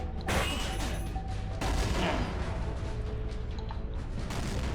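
Rapid bursts of gunfire and booming explosions from a kung fu fighting video game, loud and dense throughout with no pause between blasts.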